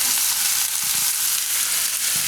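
Potatoes sizzle and crackle in a hot pan as they fry for wheat-flour bhajiya, a dense, continuous hiss that stays loud and even throughout.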